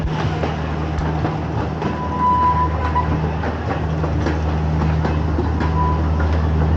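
Big One roller coaster train at Blackpool Pleasure Beach passing overhead, a steady loud rolling rumble with a low drone and faint clattering from the track, sustained and close throughout.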